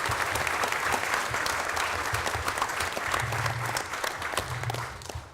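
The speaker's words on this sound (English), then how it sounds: "let's give a round of applause for the parents that make this happen" Steady applause from a crowd, continuous clapping that holds for several seconds before tapering slightly at the end.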